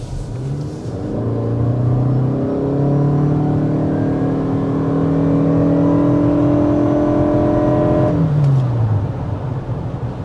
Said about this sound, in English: So that was another run up to 60 miles an hour